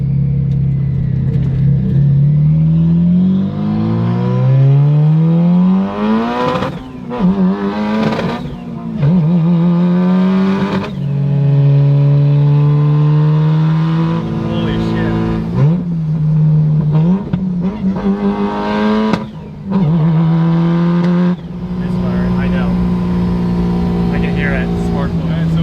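A Mitsubishi Evo 8 with freshly fixed wiring pulls away on a passenger ride, the engine rising repeatedly through revs with gear-change dips, loud and close from inside the cabin, with people talking over it.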